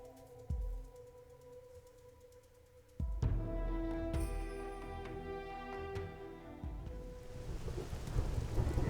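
Rain in the game Xenoblade Chronicles X hisses steadily, swelling louder partway through with rumbling thunder and scattered drops; no voices are heard.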